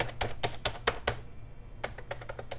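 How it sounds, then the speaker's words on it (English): Keys pressed on a 1990s desktop computer keyboard: a run of rapid clicky keystrokes, a brief pause, then another quick burst of taps, close and moderately loud over a low electrical hum. "Pushing every key there is."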